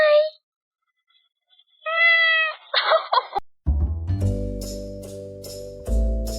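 A cat gives several distinct meows with a speech-like, conversational rise and fall, close and clear, alternating with a person's voice and followed by music.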